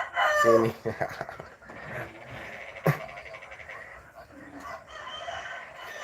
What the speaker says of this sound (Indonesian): Wah, ini suara ayam merdu sekali ya.